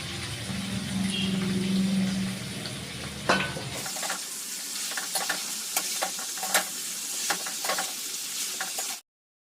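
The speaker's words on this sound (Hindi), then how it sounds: "कटहल को मैंने फ्राई करने के बाद कढ़ाई में कर लिया था मसाला, और अब इसको छौंक लगा दिया है" Spices sizzle and crackle in hot oil in a kadhai while tempering a jackfruit curry, a steady frying hiss with stirring scrapes that shifts abruptly to brighter, sharper sizzling before cutting off.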